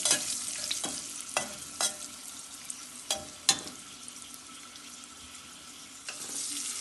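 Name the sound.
stirring turmeric and spices frying in a pan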